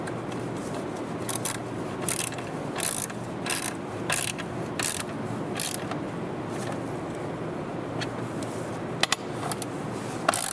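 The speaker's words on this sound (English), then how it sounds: "We're using 8mm socket to tighten these two bolts." A ratchet with an 8mm socket tightens the battery terminal bolts on a Volvo XC, giving a run of rapid, close clicking bursts in irregular rhythm with short pauses between strokes.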